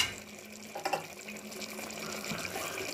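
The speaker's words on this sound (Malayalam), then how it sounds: "നമുക്കതുകൊണ്ട് തിളച്ച വെള്ളം ഒന്ന് ഒഴിച്ചു കൊടുക്കാം." Boiling water poured into a pot of biryani masala gravy, a steady close splashing and gurgling stream with a brief louder gush near the start, running alone throughout.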